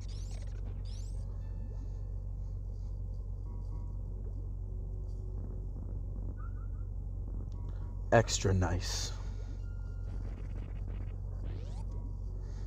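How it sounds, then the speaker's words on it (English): Steady low broadband hiss and rumble of a car heater running inside a parked car, constant and unchanging beneath someone talking, with a brief louder click or rustle partway through. "I apologize for the white noise of the heater going on in the background"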